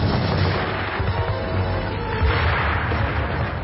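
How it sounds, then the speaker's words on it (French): Heavy artillery and gunfire from a WWII commando raid on Vaagso, Norway, a dense continuous barrage of booms and bursts, loud and close throughout with no speech. "Elles sont immédiatement prises à partie par un feu nourri."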